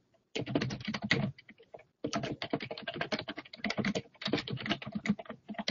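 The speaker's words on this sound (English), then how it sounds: "I'm just going to go ahead and click on that button, and then I could type a message." Fast typing on a computer keyboard, two dense bursts of close, crisp key clicks separated by a brief pause, with no talk.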